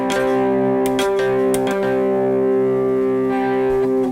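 An electric guitar sounds a perfect fourth interval against the root, a smooth, consonant pair of notes with distortion and effects, sustained loudly for several seconds with a few picked re-attacks and no talking.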